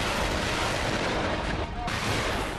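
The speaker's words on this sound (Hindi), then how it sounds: "हिंद की सेना की इन तोपों ने जब ताबड़तोड़ फायरिंग की तो इनकी गर्जना से पूरा" Indian Army artillery guns fire during a military exercise, producing a dense, continuous roar of heavy blasts that stays loud and unbroken throughout, with barely a pause.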